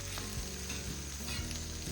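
Potatoes fry in a little oil on a homemade grill surface, a loud, continuous close sizzle with an underlying hum and occasional shifting tones, no voices.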